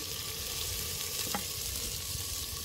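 Onions browning in a hot pan for a chickpea curry: a steady, close sizzle and crackle that holds level throughout, with a faint stir or scrape partway through and no talking.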